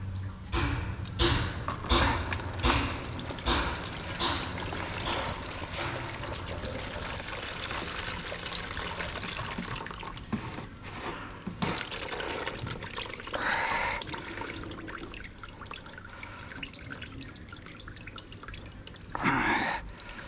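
Battery water being poured out of a car battery while flushing it, a steady liquid trickle and dripping running close by for the whole stretch, with a few stronger splashing bursts.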